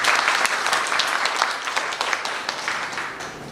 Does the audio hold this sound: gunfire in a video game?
no